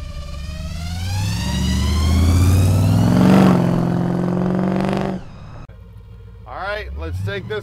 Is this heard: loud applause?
no